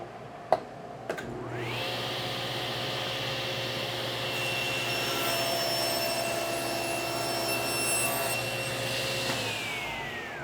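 A SawStop table saw with a dust collection hose attached: a couple of clicks, then the motor spins up into a steady, high whining roar mixed with a vacuum-like rush. It holds for several seconds before winding down.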